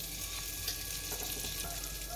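Butter sizzling in a hot pressure cooker while vegetables for pav bhaji are prepared, a steady, soft crackling fry that continues without pause and stays faint and close.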